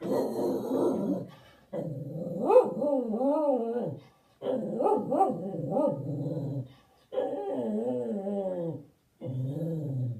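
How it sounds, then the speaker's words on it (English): A dog growls and barks in long, harmonic bursts with short pauses between them, close and fairly loud. "Finish barking."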